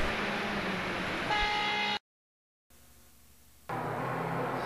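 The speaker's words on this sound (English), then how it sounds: "Horns are honking." Car horns honk in a sustained, steady blare on a street in the USSR in 1989, broken by a brief silence before the honking resumes, with broad traffic noise behind it.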